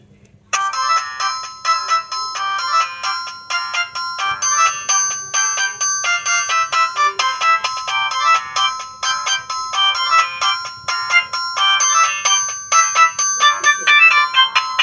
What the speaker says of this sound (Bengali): অবশ্যই আমি রিংটোনের সাউন্ডটা একটু শোনাতে চাচ্ছি যে এই ফোনটির সাউন্ড কেমন হবে